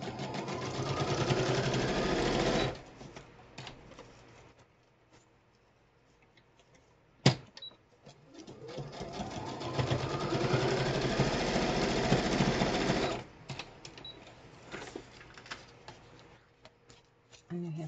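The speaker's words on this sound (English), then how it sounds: "take it to the sewing machine" A sewing machine stitches a grungy cardboard embellishment in two loud, rapid mechanical bursts separated by a quieter pause with a sharp click, the motor whirring close by.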